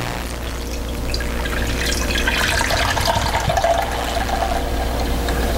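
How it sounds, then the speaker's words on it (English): Fourteen ounces of canned beef gravy poured into a pot on a stove set to high for homemade beef stew, a steady close liquid gurgle and splash that swells slightly toward the middle. "I put the 14 ounces of beef gravy in there."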